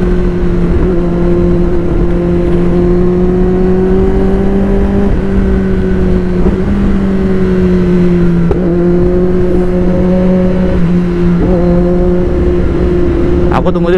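Kawasaki ZX-10R sport motorcycle fitted with a new aftermarket exhaust, engine droning steadily nearby as it rides and revs in traffic, pitch rising and dipping with several throttle changes, with voices talking over it.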